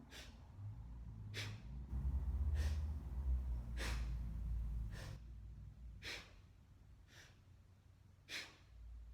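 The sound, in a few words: Bhastrika breathing exercise, forceful exhale through the nose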